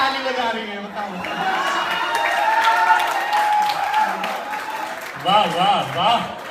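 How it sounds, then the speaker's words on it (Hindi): Audience at a Hindi comedy show clapping and cheering, with a performer's voice speaking over a crowd's applause and excited voices that swell toward the end. "लड़कियां भी ताली बजा रही हैं,"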